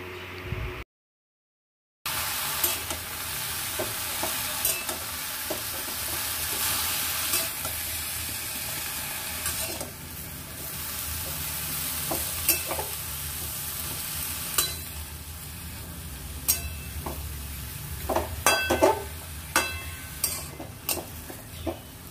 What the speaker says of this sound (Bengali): এবার নাড়াচাড়া করে সমস্ত উপকরণ ভালোভাবে মিশিয়ে নিয়ে ঢাকা দিয়ে সেদ্ধ হতে দেব।